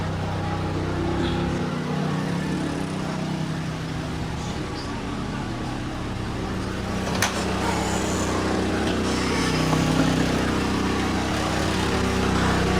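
A generator supplying charge and load power for a Deye hybrid inverter runs with a steady, continuous engine drone, close and fairly loud, over faint background noise.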